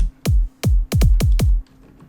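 Five punchy synthetic kick drum hits from a GRV kick sample, struck in a simple Eurobeat pattern with a lone hit, a gap, then a quick run of four, each booming low with a sharp click on top, alone and loud.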